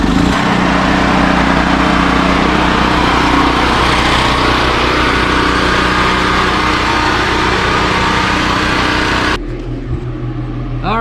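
A small engine, started without its choke during a power outage while rebuilding an RV, runs loud and steady with a rough buzzing drone, then drops abruptly to a quieter, thinner idle near the end.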